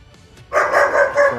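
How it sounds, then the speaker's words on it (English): A dog barks close by in a quick run of three or four yaps after a quiet start, loud and clear with no talking over it. "Well, I heard a doggy barking."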